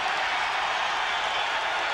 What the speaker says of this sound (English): the crowd has suddenly sprung to life